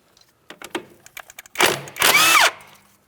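An 18mm wrench breaks loose a tie rod mounting nut on the steering rack of a 2007-2014 Ford Edge: a few light metallic clicks, then two loud, harsh bursts of ratcheting and grinding, close by with no talk.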